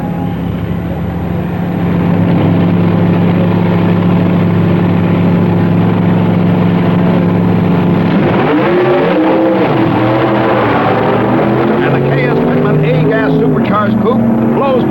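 A 1965 B-Gas supercharged drag racing coupe making its run, a loud sustained engine roar that rises and sweeps in pitch midway as the car passes, with someone talking over it.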